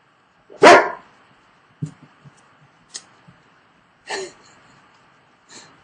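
A dog barks in a quiet room, one loud close bark followed by a few softer, shorter barks and yelps spread over several seconds, with no talking.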